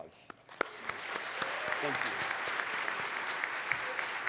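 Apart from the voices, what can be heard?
audience applause at a luncheon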